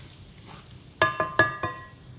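Garlic and tomato powder stirred in hot oil for smoky croutons, with four sharp scraping knocks of a utensil against the pan in quick succession over a faint low background.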